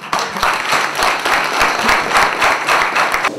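Audience applause at the close of speeches at a Vanadzor political campaign gathering: dense, steady clapping from a crowd, loud and close, sustained without a break for the whole stretch.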